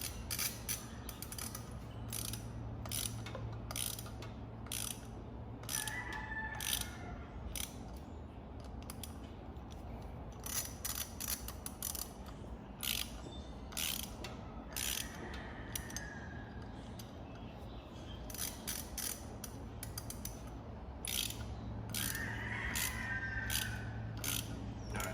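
Steady ratchet clicking while tightening clutch bolts on a Suzuki King Quad ATV, quick rhythmic runs of clicks near the mic with a few short creaks over a low background hum.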